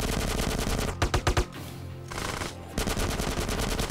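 Dense gunfire in GTA: San Andreas, continuous loud automatic shooting with a short cluster of distinct heavy shots, a brief lull, then the barrage resumes.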